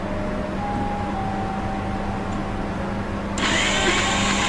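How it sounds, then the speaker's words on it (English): An electric grinder whirs into action on dried green grams with a tomato, switching on suddenly after a low background hum and then running as a loud, steady buzzing whine. "Then you can add one tomato and grind it again."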